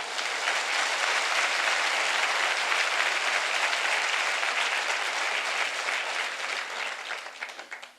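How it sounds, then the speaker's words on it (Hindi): A large audience claps loudly and steadily for several seconds, a dense wash of applause that tapers off at the end. "इनके लिए जोरदार तालियां हो जाए"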